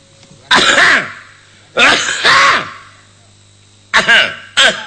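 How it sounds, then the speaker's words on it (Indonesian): Throat clearing in four loud, close bursts, two paired and then two more after a pause, each a rough guttural rasp with a brief hum over a steady low background drone during a Sundanese wayang golek puppet performance. "sok dehemkeun"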